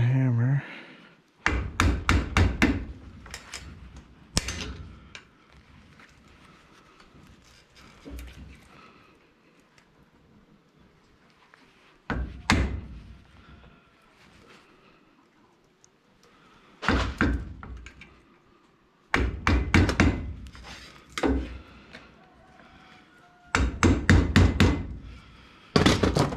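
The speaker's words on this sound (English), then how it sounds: "take a flat screwdriver and a hammer." A hammer strikes a flat screwdriver against brass in several sharp bursts of rapid metallic taps, close and loud, separated by quieter stretches.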